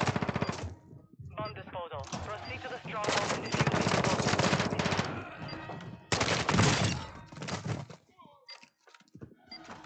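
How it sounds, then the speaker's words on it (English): Bursts of video game gunfire from a bot shooting at the player in an online shooter, rapid automatic volleys that come and go over about ten seconds, loud and close, mixed with other game sounds. "That's a bot shooting at you."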